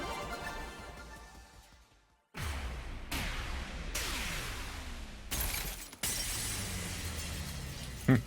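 Glass shatters repeatedly in The Hundred Line: Last Defense Academy, several loud crashing breaks with bright scattering shards over a low game backdrop, separated by short pauses.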